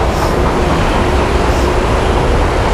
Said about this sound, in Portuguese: O metrô do monotrilho.